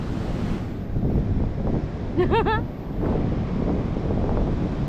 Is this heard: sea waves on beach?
yes